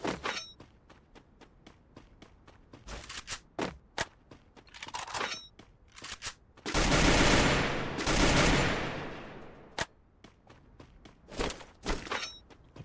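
Scattered bursts of gunfire in the video game Free Fire, with single shots and short rapid volleys around louder sustained blasts in the middle, over faint footsteps and thumps.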